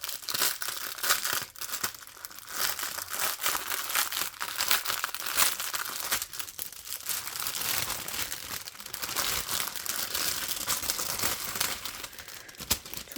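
Plastic packaging of a diamond painting kit being opened, giving continuous close crinkling and crumpling with occasional tearing rustles throughout.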